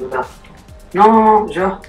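A dog in a video game barks a few times with whining yelps, game-like and close, while people talk over it.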